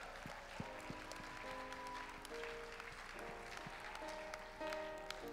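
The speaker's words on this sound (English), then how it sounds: "Can we give our bucket carriers a big round of applause this morning?" A church congregation claps, a faint, even spatter of applause running beneath steady sustained musical tones, with no talking over it.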